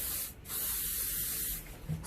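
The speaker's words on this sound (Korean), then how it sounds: "얇게 점이는 아이는 샤이닝을 뿌려줘야 된다." A can of shine spray hisses onto hair during an updo styling, one long close burst of about a second after a short puff, with a faint rustle at the end.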